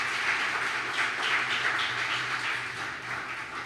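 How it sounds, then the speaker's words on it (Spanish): A church congregation gives a loud, sustained round of applause for the Lord during a Christian service, a dense wash of clapping that stays strong and then eases slightly. "Dile un fuerte aplauso al Señor."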